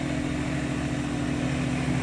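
A 1967 Mercury Cougar engine idles in a steady, continuous drone, close and even throughout, with no talking.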